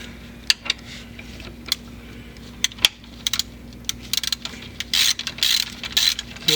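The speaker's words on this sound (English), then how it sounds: "You get my ratchet." Hand ratchet tightening a bolt during Haldex service on a Volkswagen MK4 R32, scattered sharp clicks that turn into quick bursts of close ratcheting near the end.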